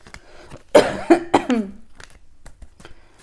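A short fit of several harsh coughs in quick succession, close and loud, trailing off into quiet clicks.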